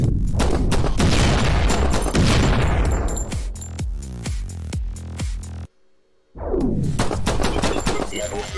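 Gunfire and explosions in the VR shooter Dimension Hunter: loud, rapid bursts of shots and booming blasts, then a brief silence and another burst of firing.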